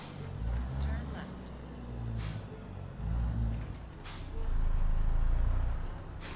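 Truck air brakes in a driving video game, releasing several short, sharp hisses spaced a couple of seconds apart over a low engine rumble, with a person talking in between.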